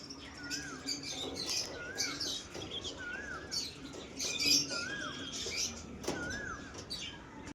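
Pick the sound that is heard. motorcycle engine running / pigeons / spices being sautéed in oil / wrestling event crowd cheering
pigeons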